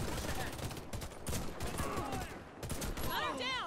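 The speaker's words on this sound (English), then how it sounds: "Oh god, someone's shooting me here." Rapid gunfire from a high-RPM weapon in the video game Warface, bursts of shots crackling in quick succession with a few pauses, mixed with game effects and a voice talking over it.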